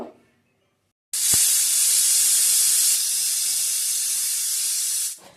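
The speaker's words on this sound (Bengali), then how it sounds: "এবার প্রেশার কুকার বন্ধ করে চারটে সিটি দিয়ে নেব" A kitchen pressure cooker holding dal and water vents steam in a loud, steady hiss that starts abruptly after a second of near silence and runs unbroken for about four seconds before cutting off.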